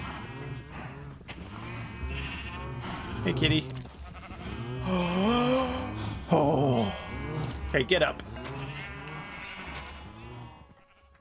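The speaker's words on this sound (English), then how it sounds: "Because these sheep are so loud." Sheep in a video game bleat loudly and repeatedly, several overlapping calls close by, while a person talks over them.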